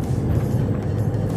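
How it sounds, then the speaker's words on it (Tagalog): A Nissan Pro-4X cruising at about 40 km/h near 1500 RPM gives a steady low engine drone with road rumble, loud and constant inside the cabin. "Nasa ano lang tayo, mga 40 kilometers per hour at ang ating RPM ay more or less nasa"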